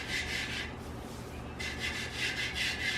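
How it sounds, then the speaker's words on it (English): Flour being rubbed by hand onto a painted pumpkin, repeated close, soft scratchy rubbing strokes in short bursts with a brief pause midway, quiet and without talking. "She took flour and rubbed it on there."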